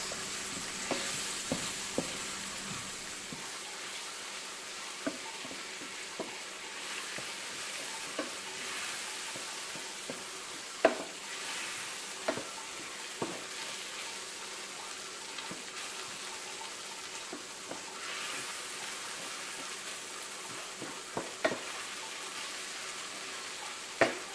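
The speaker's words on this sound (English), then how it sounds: "Stir this for another 2 minutes. Cook that flour out." Flour sizzles gently in a pan as it is stirred for Jamaican spicy coconut curry shrimp, a steady close hiss broken by scattered spoon clicks and scrapes over about twenty-four seconds, with no talk.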